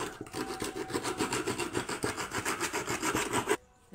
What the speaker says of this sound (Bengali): এখানে আমি ভালো করে এটাকে সিরিজ কাগজে ঘষে নিচ্ছি